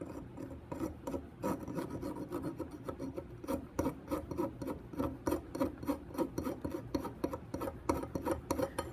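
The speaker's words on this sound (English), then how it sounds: "just very carefully try to sand away or file away that small little burr" A metal file rasps a small burr off a custom key chain in quick, even back-and-forth strokes, close and clear with no voices.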